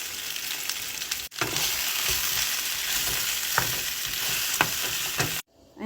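Dry onion frying in a pan gives a loud, steady sizzle close by, briefly cut off twice, with light stirring clicks and no talk.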